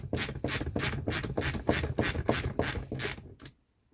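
Parts on a Preston Innovations Shuttle being loosened, a close, rhythmic ratcheting of about ten even mechanical clicks that stop abruptly near the end.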